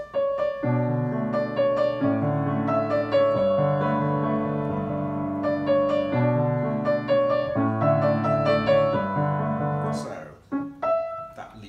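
Piano chords played with the sustaining pedal ring out with held, overlapping notes blending together, a steady flowing pattern that thins near the end.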